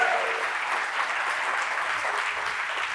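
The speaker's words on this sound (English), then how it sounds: "I know you all just applauded me, but I would love to hear 10x that" Audience applause at a live design-business event welcoming a founder on stage, sustained crowd clapping throughout, fairly even and moderately loud, with faint murmurs underneath.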